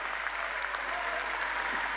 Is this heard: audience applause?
yes